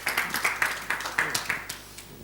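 Audience clapping at a talk or seminar, a scattered round of hand claps spread over two seconds, fairly close and moderately loud, with a faint voice underneath.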